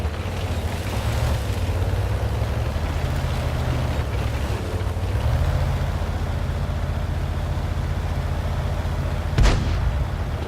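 Artillery shells strike a tank in World of Tanks, heavy low rumbling booms rolling under a constant engine drone, capped by one sharp, loud impact crack near the end.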